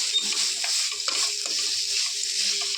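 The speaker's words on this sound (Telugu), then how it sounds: "కలుపుతున్నాను సాల్ట్ని" Salt is stirred into carrot rice as it fries in a pan, giving a steady, fairly loud hiss of sizzling with soft scraping strokes of a spoon and no speech.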